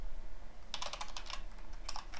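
Rapid keystrokes on a computer keyboard while coding, a quick clattering burst of keys followed by a brief pause and a few more taps, close to the microphone with no talk.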